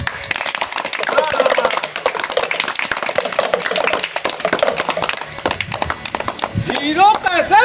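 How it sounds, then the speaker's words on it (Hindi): Children clapping their hands at a street performance with a trained bear, a dense burst of quick, uneven claps close by, mixed with shouting voices and fading into lively speech. "बच्चों एक बार बजाओ ताली।"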